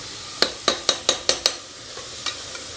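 Onions frying in a pan for mutton pulao, with six sharp, evenly spaced spoon taps and scrapes against the pan over a faint sizzle, followed by two softer knocks.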